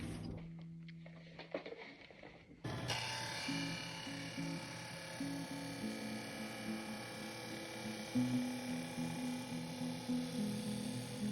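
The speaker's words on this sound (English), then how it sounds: "we will do a final shaping of the bezel on our sander" A sander shapes the bezel of a guitar pickup on an Erlewine Lazer, starting after a quiet lead-in with a steady, close motor hum and grinding that keeps going, slightly shifting in pitch as the part is worked.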